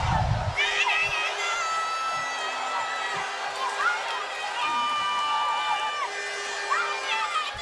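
A crowd at a boxing match cheers and shouts excitedly, with high, overlapping voices and whoops. The noise is loud and continuous, and a commentator's voice runs underneath it.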